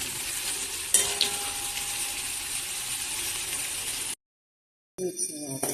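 Green mussels sauté in a hot pan with a continuous sizzle and a few scraping stirs. The sound cuts out abruptly near the end, then returns briefly with clattering.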